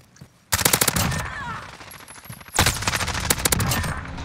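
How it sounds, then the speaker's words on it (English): Rapid bursts of automatic gunfire crack out in a Modern Warfare Search and Destroy gunfight, likely from an MP5, two loud volleys separated by a brief lull, with dense overlapping shots and echoes. "How did I win that gunfight?"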